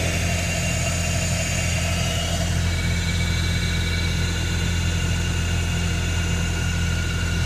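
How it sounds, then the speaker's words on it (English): A 2006 BMW E61 530xi wagon idles with its exhaust visibly shaking, giving a steady, loud low rumble with constant vibration and no variation in pace. "the exhaust is really shaking."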